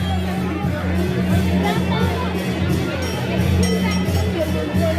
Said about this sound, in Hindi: मनोकामना देवी में काफी भीड़ है।